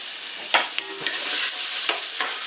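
Onions hit a pan of browned pork chops and fry with a bright, steady sizzle, punctuated by several sharp scraping stirs close by, with no one talking.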